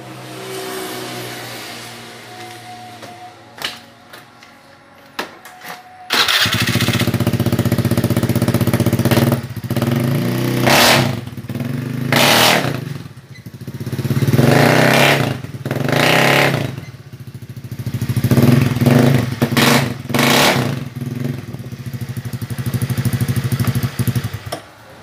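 A Honda Beat FI scooter engine with a noisy aftermarket exhaust runs on test, idling quietly before catching and revving in repeated loud bursts that rise and fall close by, with no talk.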